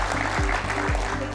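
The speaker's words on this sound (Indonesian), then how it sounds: "Tepuk tangan untuk ekonomi kreatif kita." Clapping from an audience at a national creative economy day event in Indonesia, a dense steady wash of many hands held at even loudness for a brief moment.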